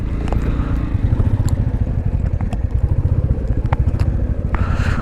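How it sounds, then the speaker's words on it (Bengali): A motorcycle engine putters at low revs with a rhythmic, throbbing idle close by while the bike is parked on a homestay rooftop in Lamahatta near Darjeeling, with a few light clanks. "কারুর বাড়ির ছাদে এসে বাইক পার্ক করলাম"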